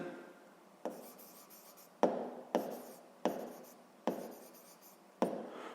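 A pen writes by hand on paper, filling in the name of a physics instrument on a worksheet, producing close, quiet scratching strokes broken by about six sharp taps as the pen touches down, with no talking.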